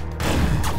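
Gunfire in the real-time strategy game Command & Conquer Generals Zero Hour, a loud, dense burst of booming shots crowding close together across a moment.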